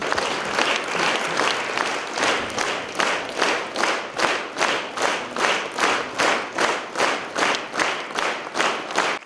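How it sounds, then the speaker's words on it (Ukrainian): Sustained applause fills a Ukrainian award ceremony honouring a fallen soldier's family, many hands clapping loudly in a steady, pulsing rhythm with no speech. "Під шквал оплесків першими нагороду отримують дружина і син Сергія Цимбала."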